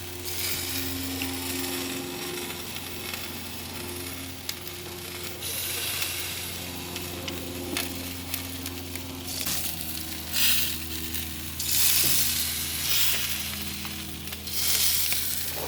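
Mojo criollo chicken sizzles on a grill grate over an open fire, a continuous close crackling hiss with a low steady hum underneath, swelling in bursts toward the end.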